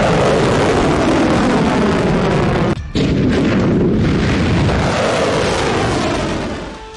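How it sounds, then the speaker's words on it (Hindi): A missile strike over Tel Aviv gives a loud, continuous roaring boom that fills the sound for several seconds, drops out for a brief moment, then rumbles on before fading at the end. "यमन से हुआ ये मिसाइल हमला देखिए।"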